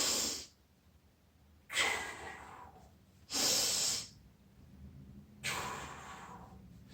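Someone breathes heavily and rhythmically during a resistance band workout. Four loud, close exhales come at roughly regular intervals, with quiet pauses between them.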